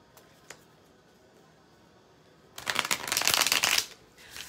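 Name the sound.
shuffling a Marielle Tarot card deck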